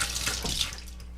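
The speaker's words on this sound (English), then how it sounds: "And then we're going to rinse this pad." Tap water runs and splashes over a Levoit LV600HH humidifier pad being rinsed at a sink, a short close burst of flowing water with no voices.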